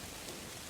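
Heavy cartoon rain pours down as a brief, even hiss of dense falling drops, soft and steady, with no voices over it.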